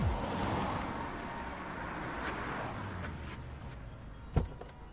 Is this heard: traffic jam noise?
yes